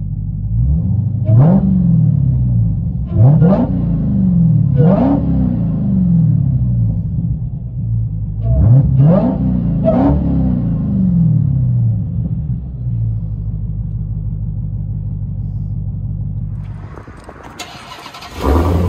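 Supercharged 6.2-litre Hemi V8 of a 2018 Dodge Demon with straight-piped dual exhaust, heard from inside the car: a loud, steady idle rumble broken by five sharp throttle blips, then a brief drop near the end.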